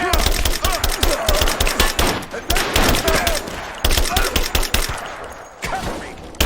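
Rapid automatic gunfire rattles through a Rise of the Tomb Raider firefight, loud close bursts of machine-gun shots in quick repeated volleys with brief gaps between them.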